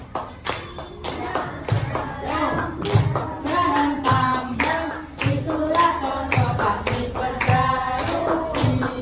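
Children in a fifth-grade classroom clap their hands in a lively, repeated rhythmic pattern, sharp claps over background voices and chanting.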